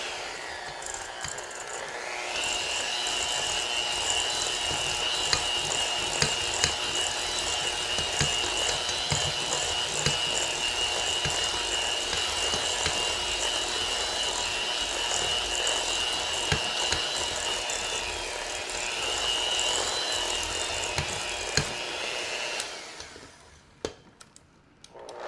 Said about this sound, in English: So we'll give this a little more time with our mixer.